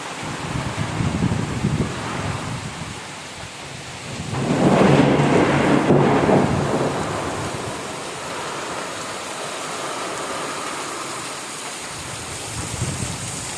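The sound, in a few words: heavy first rain of the year with thunder and hail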